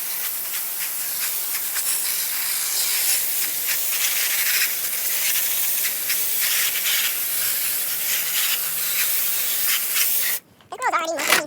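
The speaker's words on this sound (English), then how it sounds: "It already has soap on it, so just squirt it all off." A steady spray of liquid hisses for about ten seconds as soap is squirted off a 1968 Thinline guitar grill, then cuts off abruptly, leaving a brief quieter tail.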